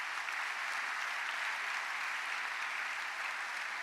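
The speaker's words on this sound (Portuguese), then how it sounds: "acho que merece uma salva de palmas ainda maior" A seated audience at a talk gives steady, even applause that holds at a constant level from start to finish.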